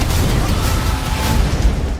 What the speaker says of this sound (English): I got a grenade!